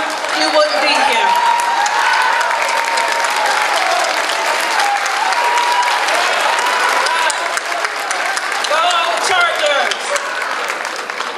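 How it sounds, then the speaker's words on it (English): A big, loud round of applause from a seated crowd at a senior honors night honoring parents and loved ones, sustained throughout with cheering voices and a voice talking over it. "give your parents and your loved ones a big round of applause"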